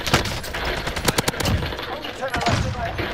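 Automatic weapons fire in Call of Duty: Modern Warfare, heard as clustered bursts of rapid shots and scattered single cracks, with voices talking over the action.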